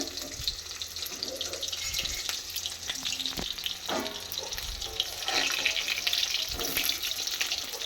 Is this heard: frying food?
yes